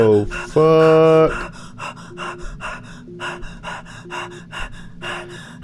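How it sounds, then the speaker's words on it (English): Panicked, rapid gasping and panting from an astronaut in the space game ADR1FT: a long strained gasp early on, then a steady run of quick, close breaths with a low background drone. "Stop breathing so fast!"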